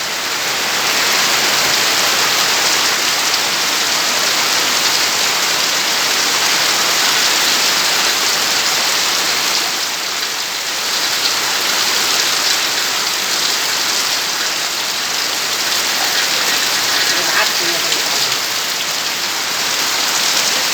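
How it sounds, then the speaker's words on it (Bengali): Heavy rain pours down in a dense, unbroken hiss, loud and close, drumming evenly on surfaces without letup. "কি বৃষ্টি নামাল হয়েছে"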